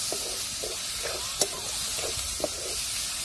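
Chopped onion and tomatoes sautéing in a pan for a dhaba-style dal tadka, a steady close sizzle broken by soft rhythmic stirring scrapes and a couple of sharper clicks.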